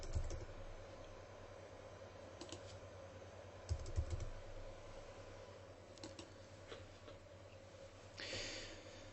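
Keys tapped on a computer keyboard while a short password is entered, giving quiet, close clicks in small irregular bursts over a steady fan-like hum.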